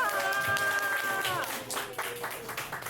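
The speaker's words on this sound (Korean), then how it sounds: "너희들도 우리가 반가우면 크게 박수 한번 쳐줄래?" Children's clapping at a church Sunday service rises into a dense patter of applause, with a sustained musical tone fading out early and scattered voices under the claps.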